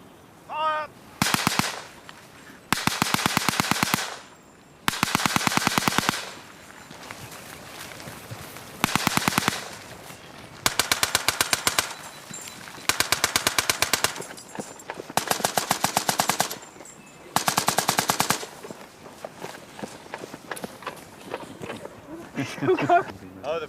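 Volleys of rifle and machine-gun fire crackle in a reenacted WWI infantry attack on the Somme, coming as repeated loud bursts of rapid shots with short pauses between them, while voices and shouted orders sound underneath.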